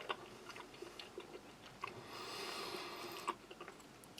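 Close, soft chewing of a big chunk of beef with beans from a French army 24-hour combat ration, wet mouth sounds and small clicks coming in an uneven rhythm with no talking.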